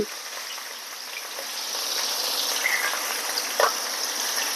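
Large pieces of catla fish sizzle in hot oil, a steady close hiss of frying that swells slightly as more pieces are eased into the pan.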